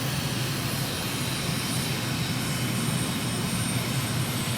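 A jet aircraft engine in a flight simulator game drones steadily during takeoff and climb, a loud, even roar that holds constant throughout.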